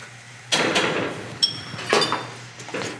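A metal whisk stirs blonde roux into boiling stock for a velouté sauce, clinking sharply against the pot in four or five close, uneven strikes over a low steady hum.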